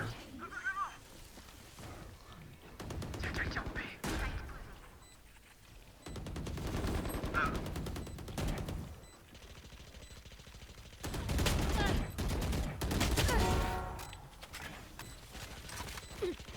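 Rapid gunfire bursts in a Riot shooter video game, loud sharp volleys in clusters separated by brief quieter gaps, with game noises around them.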